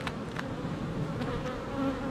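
Agitated honeybees swarm and buzz at an open hive during a beekeeper's inspection of capped brood, a steady dense drone with individual bees whining close to the microphone throughout.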